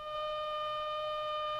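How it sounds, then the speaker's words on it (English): Civil defense attack alert siren sounding a single steady, unwavering tone, fairly faint and alone with no talking. "The attack alert sounds like this."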